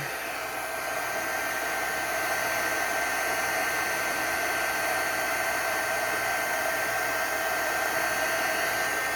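A heat gun melts embossing powder on a card, its steady, loud airy blowing roar running continuously and alone throughout.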